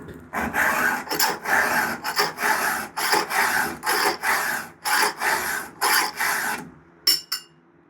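A file is stroked across a Stihl chainsaw chain tooth to sharpen it. About a dozen steady, loud, close rasping strokes follow an even rhythm, ending in two quick short strokes, with no talk over them.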